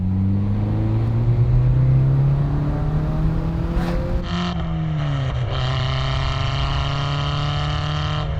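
Citroën Xantia with its exhaust valve open, a loud steady engine drone with strong harmonic bands that rise and shift as the revs change, continuous and close with no talking.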